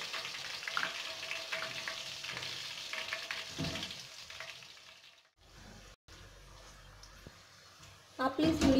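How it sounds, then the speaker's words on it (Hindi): Potato chips fry in oil over a low flame, a soft steady sizzle with occasional stirring, the bubbling dropping away briefly before a louder clatter at the close. "थोड़ी देर के लिए और हम फ्राई करेंगे जब तक ये थोड़ी क्रिस्पी नहीं हो जाती है"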